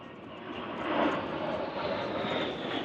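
An aircraft flies over the Chicago Air & Water Show, heard from a boat on the water as a steady, fairly faint engine drone that swells slightly near the middle, with no talk.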